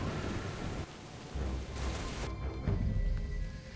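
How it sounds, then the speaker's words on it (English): A heavy tropical storm lashes an island jungle, with steady loud broadband rain noise and deep low rumbles of thunder rising and falling throughout, no voices. "The rain's easing up."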